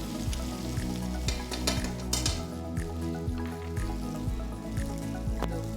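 Meat sizzles loudly in a pan as it is basted with garlic butter, a continuous crackling fry broken by repeated spoon scrapes and splashes, close up and with no talking.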